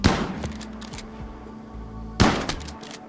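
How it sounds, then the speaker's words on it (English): Shotgun blasts in the colony-survival game Rimworld: a loud, sharp shot at the very start, then a second heavy blast about two seconds later, each trailing off into low rumbling game ambience. "BG hit him with a shotgun"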